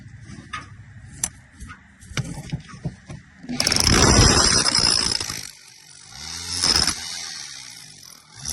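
A power drill whirs loudly into a wall for a couple of seconds, then again in a shorter burst, with clicks and knocks between, while fitting new drainage.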